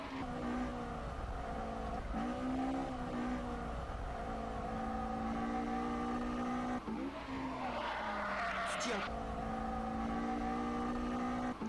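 A tuned car engine in a modded driving game holds a steady, loud drone, then climbs in pitch as it revs, with tyres squealing briefly near the end. No one talks.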